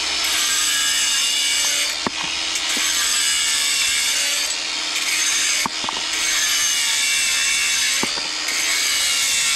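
A brick slip is cut by hand across its face, giving a loud, continuous, close rasping saw stroke with a few sharp clicks and knocks where the stroke changes direction.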